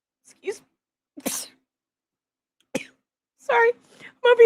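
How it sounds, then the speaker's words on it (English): Several separate sneezes and coughs burst out one after another, close to the microphone and fairly loud, with quiet pauses in between and a voiced, throaty sneeze at the end. "I'm over here sneezing and coughing."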